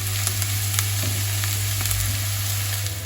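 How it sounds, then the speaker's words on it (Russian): Mushrooms frying lightly in a pan, a continuous close sizzle with scattered crackles and pops, over a steady low hum, with no talk. "Перекладываю сюда грибочки и обжариваю их слегка"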